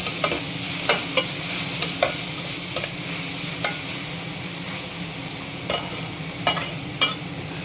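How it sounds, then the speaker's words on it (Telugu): A curry of amaranth leaves and green mango, seasoned with salt and turmeric, is stirred in a pan. Roughly a dozen distinct spoon scrapes and taps sound close up over a gentle, steady sizzle, with no speech. "ఇప్పుడు దీన్ని కొంచెం సేపు మళ్ళీ కలిపేద్దాం"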